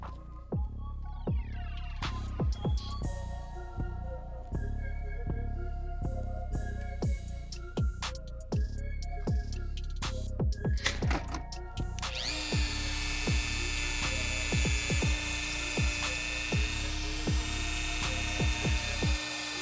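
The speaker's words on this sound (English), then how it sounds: "and then Dremel inside those areas" A Dremel rotary tool whines at high speed as it cuts into the inside of a sneaker. The pitch wavers with the load, interrupted by brief clicks and handling knocks, and it rises into a harsher, steadier grind partway through.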